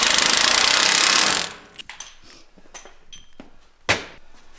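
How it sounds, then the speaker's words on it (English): An impact wrench with a 21 mm socket hammers a track bar bolt tight on a Jeep JL Wrangler during a lift kit install, a loud continuous rattling burst of over a second, followed by quieter clicks and a sharp knock. "We're gonna use our 21 millimeter socket again and an impact wrench."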